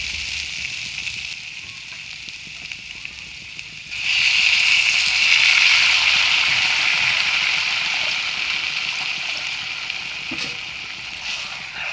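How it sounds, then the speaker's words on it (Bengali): Water is poured into a pan of potatoes already fried with spices for a curry made with dried fish. A loud, steady rushing pour begins about a third of the way in and keeps going, softening slightly toward the end. "এবার আমি দিয়ে দিব জল।"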